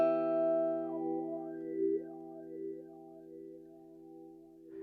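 A guitar chord rings through a Formant Filter effect on an iPad app with high resonance, its tone sweeping in slow vowel-like waves as it sustains and fades.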